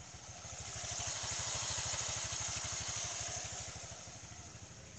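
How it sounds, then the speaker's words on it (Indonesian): A Honda Vario 125 scooter engine running fitted with a Honda PCX CVT fan, a steady rapid putter of pulses at idle, quiet and close, rising slightly in the middle then easing back. "Sekarang mesinnya udah nyala."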